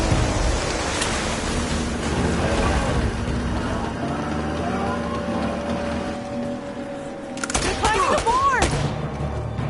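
Gunfire in the video game Uncharted crackles in a dense, noisy game soundscape, with sharp bursts of shots near the end over a constant rumble.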